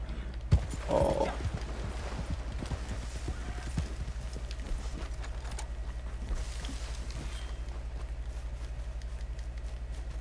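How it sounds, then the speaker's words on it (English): Horse hooves clip-clop at a steady trotting rhythm in Red Dead Redemption 2 Online, moderately close and continuous over a constant low game hum. "Horsey."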